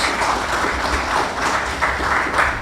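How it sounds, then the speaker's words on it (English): A crowd applauds steadily at a government signing ceremony, a dense wash of many hands clapping at moderate volume without pause. "Let's give the young people a round of applause."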